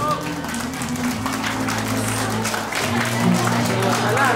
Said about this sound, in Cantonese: 有請，掌聲歡迎！